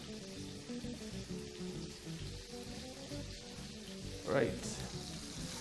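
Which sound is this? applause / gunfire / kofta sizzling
kofta sizzling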